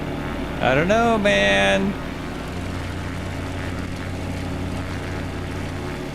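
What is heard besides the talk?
Carenado C172 aircraft engine in flight simulator video game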